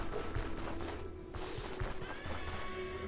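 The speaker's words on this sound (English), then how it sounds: "there are horses over here." Horses neighing and whinnying in the game Stoneshard, a steady nearby whinny with faint hoof clops under continuous game ambience and music, no talk.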